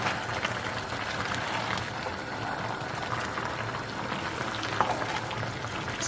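Onions and vegetables cooking in a pot of Nigerian party egusi soup, a steady bubbling simmer with soft sizzling and occasional small pops, continuous and close, without talk.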